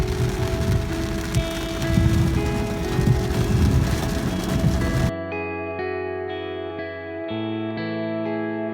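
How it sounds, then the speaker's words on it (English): Rain falls outdoors during a hot, stormy July in Britain, a dense hiss for the first few seconds before giving way to a plain sustained musical tone. "It stopped raining and then it started to rain again."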